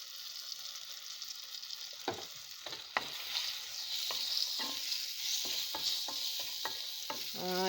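Apple slices with cinnamon cooking in a pan on a home stove, with soft sizzling under a steady hiss, a few clear stirring scrapes and spoon clinks near at hand, and a quick rattling scrape at the end.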